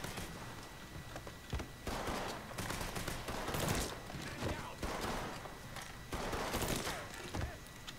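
Rapid bursts of gunfire in the video game Mafia III, broken into repeated loud volleys with brief pauses between them, with possible faint talk mixed in.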